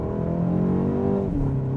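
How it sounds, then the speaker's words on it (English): BMW 228 Gran Coupe engine pulling hard under acceleration with brief wheel spin, a steady rising drone that dips at a gear change near the end, heard from inside without talk. "got a little bit of wheel spin there"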